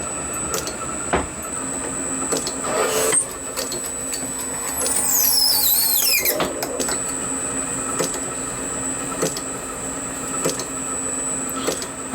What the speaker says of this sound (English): We've got our 4mm tap all ready to go.